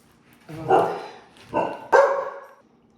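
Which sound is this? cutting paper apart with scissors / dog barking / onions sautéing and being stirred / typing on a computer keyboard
dog barking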